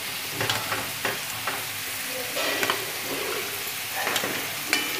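Green garlic and chopped onion frying in a pan for baingan bharta: a continuous sizzle with several clacks and scrapes of a spoon stirring through the mixture, close and moderately loud.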